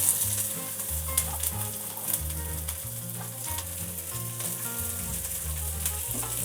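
Capsicum frying in a pan for restaurant-style chicken Manchurian, a loud continuous sizzle with scraping stirs, all set over a steady rhythmic background music beat.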